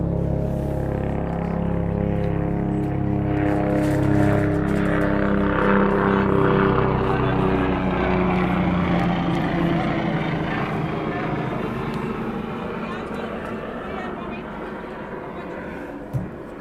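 A helicopter passes over an outdoor lawn bowls match at the Gauteng Open, giving a loud, steady droning roar with sustained engine tones that slowly fades toward the end.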